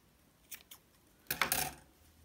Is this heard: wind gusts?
no